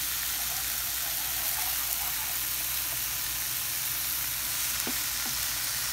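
Mushrooms browning in olive oil in a pan give a steady, even sizzle and crackle close by, with a few faint clinks near the end and no voices.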